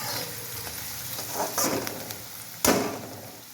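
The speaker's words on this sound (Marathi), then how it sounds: "आता हा कांदा आपल्याला चांगला लालसर होईतोपर्यंत शिजवून घ्यायचा बरं का." Onions frying in a pan for kanda poha, a soft steady sizzle broken by a few stirring scrapes, with one sharper clatter of the spoon near the end.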